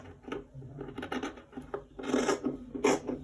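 Scissors snip through fabric for a double V-neck garment, a few short rasping cuts in quick uneven bursts, close and fairly quiet.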